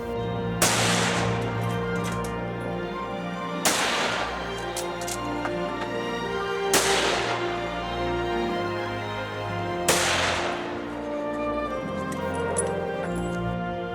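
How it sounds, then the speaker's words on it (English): Four rifle shots at a village shooting range before hunting season, each a loud, sharp crack followed by a long ringing echo, spaced about three seconds apart over a steady background hum. "before the hunting season starts, they do some tests at the shooting range"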